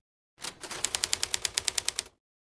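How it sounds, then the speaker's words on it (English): Typewriter keys clack in a quick, even run of about a dozen crisp strikes after a brief lead-in, isolated against silence. "Typewriter."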